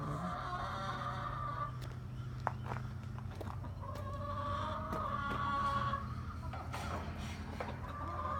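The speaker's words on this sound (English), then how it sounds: "We have approximately 30 chickens." Around 30 chickens in a coop inside a shipping-container barn cluck and squawk continuously at moderate distance, with scattered sharper calls over a steady farmyard hum.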